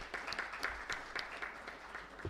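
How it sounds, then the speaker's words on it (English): A short burst of scattered clapping from a small group at an awards ceremony, uneven and fairly soft, tapering off after a couple of seconds. "let's put our hands together to give a round of applause"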